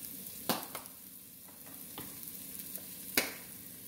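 Garlic, basil and paprika stirred in a frying pan for mussels: a steady low sizzle with a few sharp scraping clicks of the utensil against the pan, up close and without any voices.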